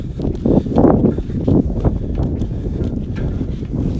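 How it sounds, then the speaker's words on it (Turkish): Steady low rumbling buffeting of wind against a microphone, continuous and fairly loud throughout, with faint rustling. "Rüzgar gelebilir ama kusura bakma."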